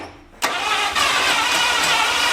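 An old abandoned Buick engine, sitting unused for over forty years, cranks loudly and close up on a new fuel tank, the starter catching abruptly after a brief quiet and churning steadily with a second surge.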